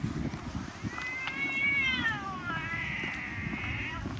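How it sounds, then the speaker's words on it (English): Several cats meow in a series of drawn-out, rising and falling cries, fairly close, over a steady outdoor background noise in Greece. "Let's see what these cats are doing."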